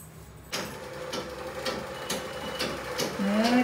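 A new saree pico sewing machine, not yet oiled and running tight, starts up with a mechanical whir and repeating clunks at a steady rhythm, close and fairly loud.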